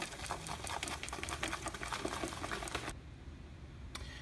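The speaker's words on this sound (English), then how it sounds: "And then we're gonna whisk it" A whisk beats a beer batter in a bowl with rapid, close, rhythmic tapping strokes that run steadily for about three seconds, then stop abruptly, followed by a single brief clink.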